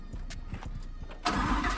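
Audi R8 V10 Plus with a Capristo exhaust, starting up nearby: a short series of starter cranks followed by the engine catching with a sudden loud, sustained roar.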